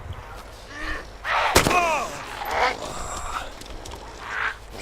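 Gunfire in the survival video game DayZ: one sharp, loud shot cracks out near the middle, with softer reports around it, while players talk over the action.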